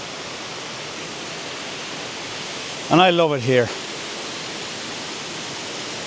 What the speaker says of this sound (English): it's a waterfall you can always rely on